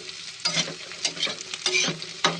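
Tadka tempering sizzles in a pan while karela is being cooked, with several bursts of crackling fry and stirring scrapes standing out over a steady background hiss, close by and with no talking.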